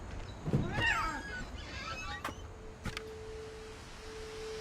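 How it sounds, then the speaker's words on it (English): Cat meowing in the video game What Remains of Edith Finch, a brief faint meow near the start, followed by soft clicks and a thin sustained tone over quiet room ambience. "Well, there's a cat."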